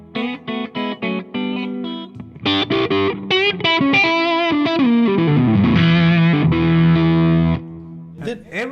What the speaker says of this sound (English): Then I have reverb. This is like my basic reverb.